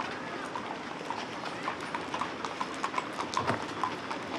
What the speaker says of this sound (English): They pulled the white hearse since 2002 with their quarter horses, Ralph and Willie.